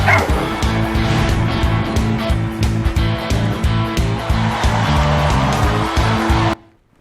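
Puppies playing football yip and bark in quick, overlapping bursts over a dense, loud, steady background of thumping and rumbling noise, all cutting off abruptly near the end.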